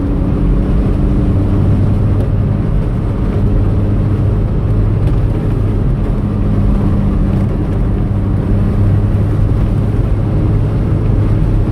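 A car fitted with a Fox exhaust drones steadily and loudly from inside the cabin, its low engine rumble continuous as it pulls along a country road.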